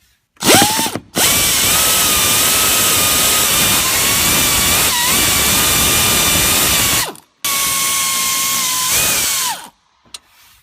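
A power tool removing the instrument panel retaining screws in a Chevy Silverado, loud and close: a steady high whine running several seconds, a brief stop, then a second long burst and a short final spin.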